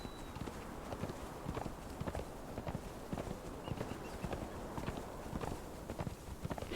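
Warhorse hooves in Conan Exiles clop in a steady walking rhythm, a long run of fairly quiet, even hoofbeats with no voices over them.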